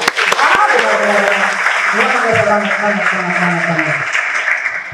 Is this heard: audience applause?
yes